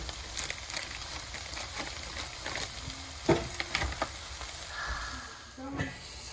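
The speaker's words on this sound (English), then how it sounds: "Put some cumin seeds and some Kashmiri chili powder." Cumin seeds and Kashmiri chili powder sizzle in hot oil, a close, steady frying hiss with a few sharp crackles and stirring clatters partway through.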